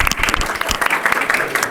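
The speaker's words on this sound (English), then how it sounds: "A big applause." A room full of delegates at a parliamentary simulation applauds steadily, a brisk, close crowd of clapping hands throughout.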